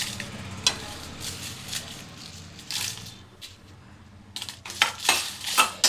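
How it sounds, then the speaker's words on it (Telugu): Dried red chillies frying in a pan with fenugreek seeds for ginger chutney, giving soft sizzling under intermittent sharp scrapes and clinks of a spoon against the pan, louder bursts toward the end. "ఎండుమిర్చి ఫ్రై చేసుకోవాలి"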